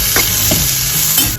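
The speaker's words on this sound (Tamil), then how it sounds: "நம்ம கட் பண்ணி வச்ச ஆனியன்ஸ் அண்ட் பச்சை மிளகாய் எல்லாத்தையுமே போட்டு லைட்டாக வதக்கிக்கணும்" Chopped onions and green chillies sauté lightly in oil, a steady close sizzle with a few scraping stirs of a spatula across the pan, no voices.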